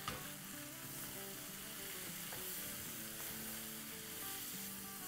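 Chicken chow mein with vegetables and green onion sizzles loudly as it is stir-fried and tossed in a pan, a dense continuous crackle with clanking utensil hits throughout.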